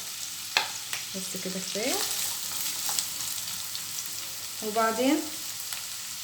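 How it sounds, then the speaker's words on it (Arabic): Onions fry in hot oil with a steady, dense sizzle throughout, and a voice speaks briefly over the cooking. "ودلوقتي هو سخن معانا، هنزل بالبصل"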